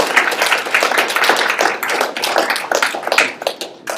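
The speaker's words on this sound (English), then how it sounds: "And you may applaud now." Audience applause follows a talk on the mobile revolution, with brisk, fairly close clapping from a modest crowd sustained for about four seconds before thinning toward the end.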